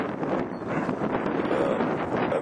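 Strong wind blows steadily outdoors at night among inflatable Christmas yard decorations, a continuous broadband rush with gusty rumble and no speech.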